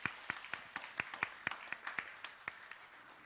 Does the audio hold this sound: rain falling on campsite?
no